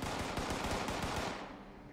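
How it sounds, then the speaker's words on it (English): Full-auto gunfire from Fallout 76 rips out as a steady, loud burst of rapid shots for about a second and a half, then trails off. "I just full-autoed 12 shots into this Brahmin's face, and he did not die at all."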